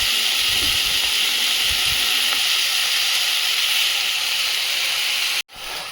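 Potatoes sizzle in hot oil with browned onions in a pan for a tangra fish and potato curry, a loud steady hiss that continues evenly and then cuts off abruptly near the end.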